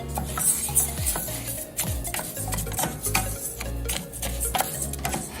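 Long grain white rice browning in a pan and being stirred, with repeated clicks and scrapes of a utensil against the pan and light rustling of the grains at a moderate pace.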